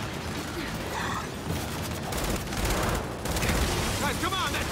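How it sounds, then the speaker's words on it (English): Sustained automatic turret fire in the video game Gears 5 rattles loudly and continuously, mixed with booms and mechanical clatter and blending with dense battle noise throughout. "that turret's ripping it up!"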